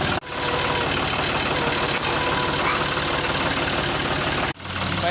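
A tractor engine runs steadily and loudly up close, a constant dense mechanical drone with brief dips near the start and end, no voices over it.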